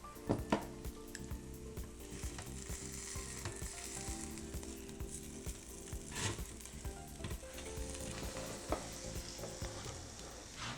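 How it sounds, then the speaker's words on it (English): Pork chops sizzle steadily in an air fryer basket while being flipped, with scattered clatter and thumps of handling over a continuous frying hiss throughout. "I'm gonna go ahead and show you what it looks like when we flip it"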